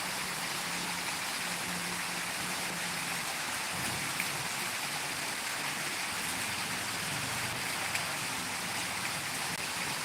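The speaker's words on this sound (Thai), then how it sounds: "เสียงฝนนะครับ" Steady rain pours down in a dense, even hiss, close and constant, with no voices.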